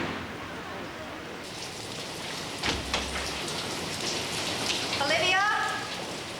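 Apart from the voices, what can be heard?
rain falling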